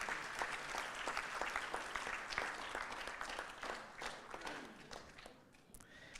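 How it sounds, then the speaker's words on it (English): A roomful of people claps for a newly introduced team member at a welcome event at the Hilton Barbados: a sustained round of applause that is moderately soft and slowly fades toward the end. "you can give her a clap"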